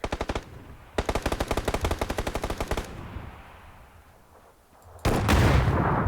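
Rapid automatic gunfire in PUBG, two bursts of evenly spaced, sharp shots close by, separated by a gap, then a heavy blast of sustained firing at the end.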